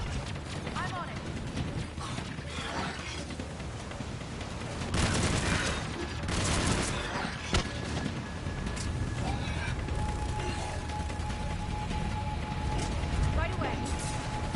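Gunfire in the video game Mass Effect 3 crackles in bursts of rapid shots amid the sounds of combat, mixed with voices talking.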